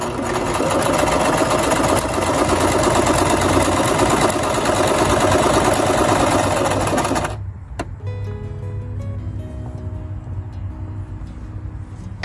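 Home electric sewing machine stitching steadily and loudly for about seven seconds with the needle set to the far left position, then dropping to a quieter motor hum after it stops.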